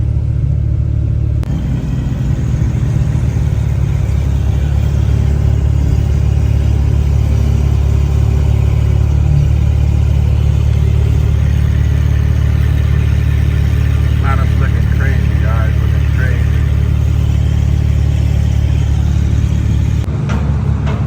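A car with a B58 engine and SpeedTech turbo cruising on the road, its loud, steady low engine drone and road rumble filling the cabin throughout, with brief talk over it.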